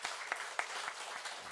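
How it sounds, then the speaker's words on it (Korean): A church congregation at a Korean thanksgiving worship service claps briefly, scattered individual claps standing out over a soft, thin wash of applause. "모든 영광, 우리 모든 은혜 베푸신 우리 하나님께 영광의 박수 올려드리겠습니다."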